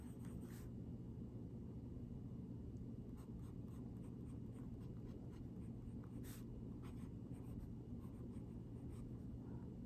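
A TWSBI 700R fountain pen with a broad nib writing in purple ink, soft scratchy strokes and taps under a steady low rumbling background hum.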